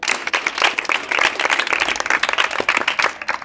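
A church or event audience claps and cheers in acclaim of God, dense sustained applause with scattered shouts filling the whole stretch at steady loudness.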